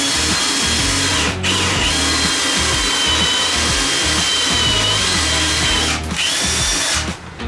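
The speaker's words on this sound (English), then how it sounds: "let's drill this thing" A power drill whirs steadily through wood for a bluebird nest box, loud and close, with two brief pauses where the motor cuts out before spinning up again.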